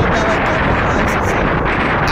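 Strong sea wind buffets the microphone on a boat, a loud continuous roaring rumble with gusty swells throughout.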